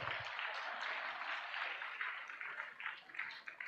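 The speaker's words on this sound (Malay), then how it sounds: "tepukan yang gemuruh kepada semua" Applause from guests at a fundraising dinner and campaign launch, a soft, fairly distant patter of clapping that carries on steadily for a few seconds.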